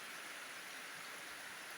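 Rain falls as a faint, steady, even wash of patter with no talking.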